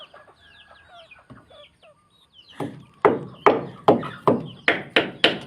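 Chickens cluck in a farmyard, with a few scattered soft calls at first and then a run of six or seven loud, evenly spaced, close squawking clucks.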